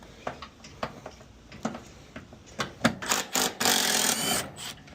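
A 13mm deep socket works a bolt loose on a Fujitsu mini split, with a series of close, sharp ratcheting clicks and scraping bursts that grow denser and louder toward the end.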